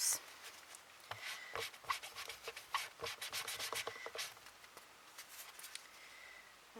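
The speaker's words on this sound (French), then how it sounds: "Ma peau de chamois pour nettoyer." A chamois leather rubs over a handmade card to clean it, making soft, close, irregular swishing strokes in quick bursts with short pauses between them.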